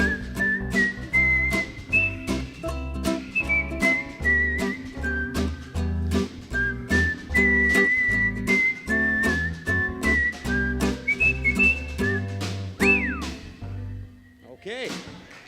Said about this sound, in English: I'd like to do one of my favorite whistling tunes